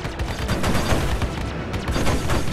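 Spaceship weapons from a space combat video game fire in dense, rapid bursts, loud and close, a continuous rattling barrage filling the whole stretch with no speech.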